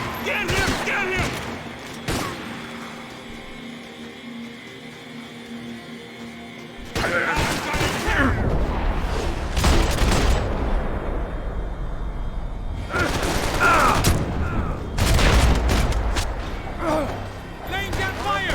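Gunfire from Max Payne 3 comes in scattered bursts and heavy blasts, building to dense, loud barrages, while game voices talk over the shooting.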